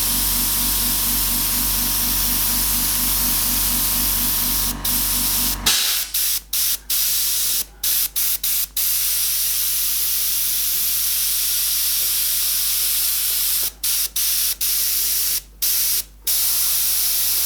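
An airbrush sprays a fine paint mist in a loud, steady hiss that cuts off around six seconds, then returns in short repeated bursts separated by brief pauses; no speech.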